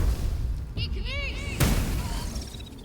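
In the video game Baldur's Gate 3, a fire spell strikes with a sudden whooshing burst and a low rumble, set among game sound effects and background music.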